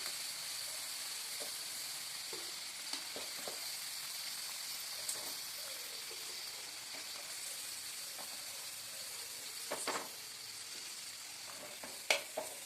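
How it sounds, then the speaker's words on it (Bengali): Vegetable cutlets frying in hot oil, Kolkata style, a faint continuous sizzle with occasional soft clinks and scrapes as pieces are turned, steady and without voices. "আমি এবার প্রত্যেকটা চপকে এইভাবে ভেজে নেব।"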